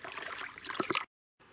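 Water is poured into a bucket as a faint, splashy trickle lasting about a second, then cuts off into silence before a low hiss returns.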